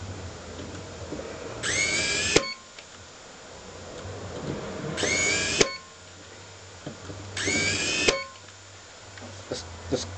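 A Sumake brushless industrial cordless screwdriver spins up in three short bursts, each a high rising whine of under a second followed by a click, with quiet pauses between runs.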